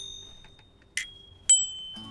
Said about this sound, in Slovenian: moji zvonci delajo cin-cin.